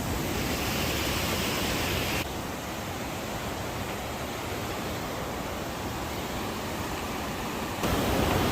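The Beas river rushes beneath a hanging bridge in Solang Valley, a steady, loud, full-bodied roar of flowing water that holds level throughout with no voices.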